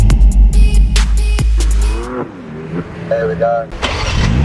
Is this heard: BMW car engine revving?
yes